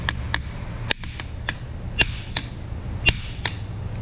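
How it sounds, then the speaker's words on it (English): A hammer strikes a brake adjuster piece on a Hyundai or Kia car in a repair shop, about ten sharp metallic taps at an uneven pace over a low, steady hum. "Hammer time."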